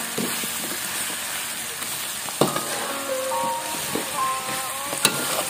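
Green sambal frying in a pan, a steady close-up crackling sizzle throughout with occasional stirring clicks and scrapes.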